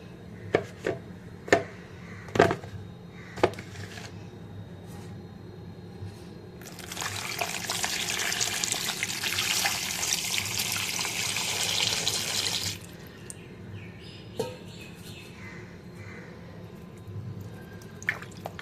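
Several sharp knocks and taps come first, then a burst of running, splashing water lasts several seconds as mangoes are washed, followed by quieter drips and clunks.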